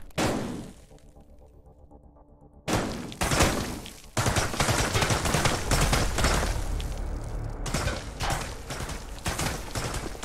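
Rapid gunfire bursts from a VR shooting video game, loud and close, with dense overlapping shots after a brief quiet stretch near the start.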